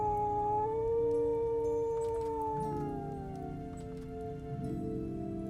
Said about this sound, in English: Yeah, but she howls way more than Scribe. Like, Sage loves howling.